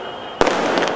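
Firecrackers go off to welcome MLA Abu Asim Azmi at an outdoor mushaira gathering in Bhiwandi, a sudden sharp bang followed by crackling bursts over a background crowd murmur.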